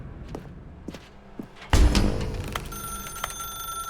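A telephone rings in the video game The Stanley Parable Ultra Deluxe, its steady electronic tone starting after footsteps and a heavy thud, with no one talking over it.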